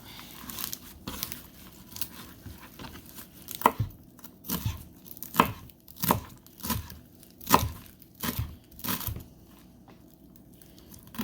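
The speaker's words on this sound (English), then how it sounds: "Chop it up pretty small." Knife chopping wilted fresh produce into small pieces on a cutting board at home, a run of sharp separate chops coming at an uneven pace, close and clear, with no talking.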